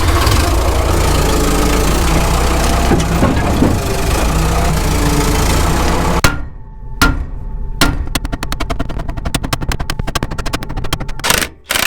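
A farm loader's diesel engine idles and revs loudly while lifting a tower, a heavy continuous rumble that turns into a harsher rattling chug partway through.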